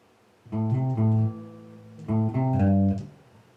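A bass guitar plays two short phrases of plucked, low notes from a song's riff, separated by a pause, clear and close with no talking over it.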